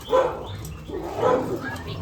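A dog in a training session gives two close bursts of barking with whimpery, yelping edges, spaced about a second apart, and no talk over them.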